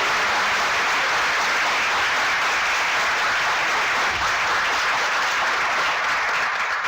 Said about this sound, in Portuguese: a quem eu peço uma salva de palmas especial